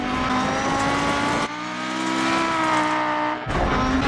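A turbocharged rally car in DiRT Rally, climbing Pikes Peak: a loud, close engine revs hard and pulls through two quick gear shifts, its pitch climbing steadily between each change.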